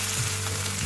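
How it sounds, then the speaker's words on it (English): Small chopped paneer pieces hit a hot frying pan for Schezwan Maggi, giving a loud, continuous close-up sizzle. "I'm gonna put this chopped paneer pieces into this"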